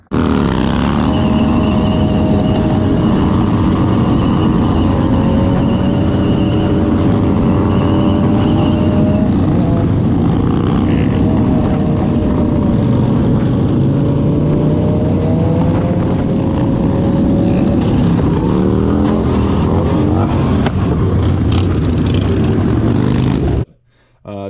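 A motorcycle idles and revs with a damaged exhaust that has come loose from the header, giving a loud, burbling, bubbly engine note close by. The engine rises and falls steadily for over twenty seconds, then cuts out abruptly at the end.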